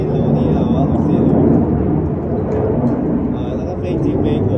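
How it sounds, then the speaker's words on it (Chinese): A loud airplane passes overhead, its broad, steady roar rumbling continuously and swelling slightly midway, heard indoors near a home kitchen while fermented beancurd chicken wings are prepared. "那个飞机飞过，大声的飞机飞过。"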